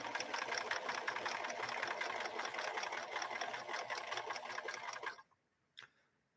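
A 1964 Montgomery Ward sewing machine running a zigzag stitch, a steady fast mechanical whir and needle chatter for about five seconds before stopping abruptly, followed by a single faint click.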